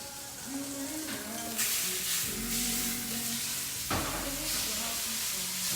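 Meat searing for chili sizzles and hisses in a hot pan, a steady dense crackle that swells louder as the pieces are stirred or moved, close up with no talking.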